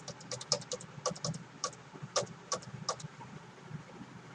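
Someone types on a computer keyboard in short, irregular bursts of crisp clicks, with a few louder key strikes that sound like a space or enter key. The clicking is close and fairly quiet, with no talk over it.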